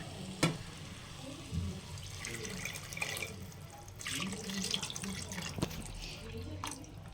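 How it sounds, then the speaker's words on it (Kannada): Tamarind water poured over marinated fish in a cooking vessel for fish curry, a soft trickling and splashing of liquid with a few small clinks, fairly quiet and close, with no talking. "ನಿಮಗೆ ಎಷ್ಟು ನೀರು ಬೇಕೋ ನೀವು ಅಷ್ಟು ಹಾಕ್ಕೋಬೋದು ನಿಮ್ಮ ಫಿಶ್ ಮೇಲೆ"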